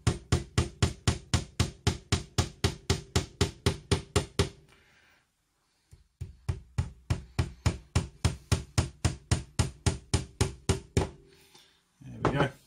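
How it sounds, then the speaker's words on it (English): A hammer drives a piece into place during copper cladding work, striking in fast, even runs of sharp knocks, a brief pause, then a second long run, loud and close, ending in a scrape. "Right, let's hammer that in there."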